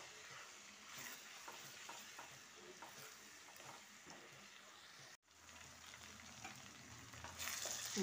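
Chicken with a spoon of ginger and garlic fries over low heat in a pot, giving a steady close sizzle with faint stirring scrapes that briefly drops out before rising again.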